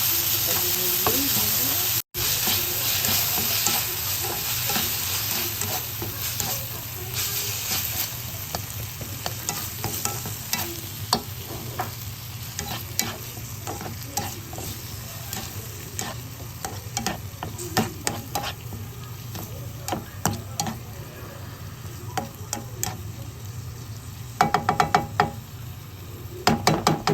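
Ground meat (giniling) with tomato frying in a pan, a steady close sizzle with frequent scraping strokes of a spatula that grow busier and more clattery toward the end.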